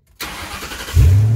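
A 1974 Ford F100 pickup with a swapped-in Crown Victoria engine cranks briefly and catches, settling into a loud, steady low idle right up close, with no talking over it.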